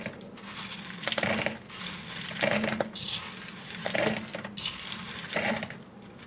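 Beads, pellets and pre-polished rocks are poured into a rock tumbler barrel in several short bursts of rattling, clattering pours with quiet gaps between them.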